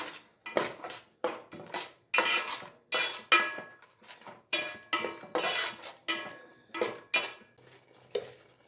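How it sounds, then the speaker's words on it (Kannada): A spoon scrapes and clinks against a metal pan as turmeric powder is stirred in for mango chitranna, in a regular series of sharp, close strokes separated by short pauses. "ಅರ್ಶಿನದ ಪುಡಿನ ಹಾಕ್ಕೊತಾ ಇದ್ದಾನೆ ಮಿಕ್ಸ್ ಮಾಡೋಣ"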